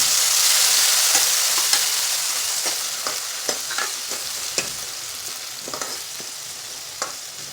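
Finely chopped tomato sizzling in a hot pan with curry leaves, a steady close frying hiss broken by occasional light stirring clicks, no talking.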